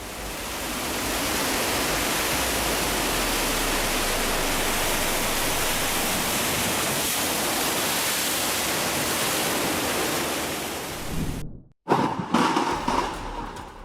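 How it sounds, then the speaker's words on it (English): Unusually high waves driven by Typhoon Chan-hom crash along the coast of Hachijojima, a loud, continuous roar of surf that cuts out abruptly near the end and then returns in rougher bursts. "The coast of Hachijojima, under the influence of Chan Hom, shows unusually high waves"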